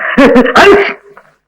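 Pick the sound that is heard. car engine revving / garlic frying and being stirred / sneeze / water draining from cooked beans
sneeze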